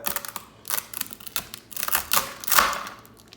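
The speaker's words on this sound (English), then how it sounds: "take a knife, and be careful, and cut the ramen noodles in half" A knife cuts a dry block of ramen noodles in half, making a fast run of crisp, crunchy cracks and snaps right up close. The crackling grows denser toward the end, and no one speaks.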